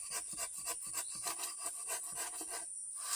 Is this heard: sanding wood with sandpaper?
yes